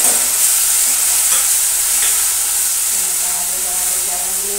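Onions, tomatoes, chillies, ginger and garlic fry in a pan for a bottle gourd and chana dal curry, a loud steady sizzle and hiss with a few faint stirring clinks near the pan.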